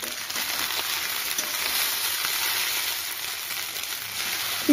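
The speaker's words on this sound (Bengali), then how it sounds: "পাস্তাগুলি আমার হালকা ভাজা হয়ে গেছে।" Boiled pasta is lightly fried in a pan for an egg pasta dish, giving a continuous, even hiss of sizzling oil up close, with no voices.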